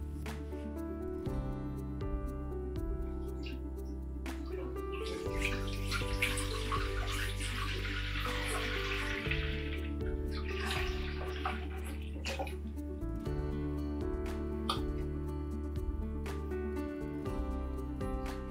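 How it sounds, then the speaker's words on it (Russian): Milk poured from 3-litre jars into a cooking pot for homemade cheese, a steady continuous splashing and gurgling stream close by, lasting throughout with a brighter, fuller rush midway and no talking. "для начала надо залить молоко в кастрюлю"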